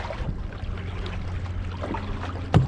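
Wooden boat being paddled or sculled, gentle water swishes and soft splashes at close range, ending with a sharper knock or splash near the end.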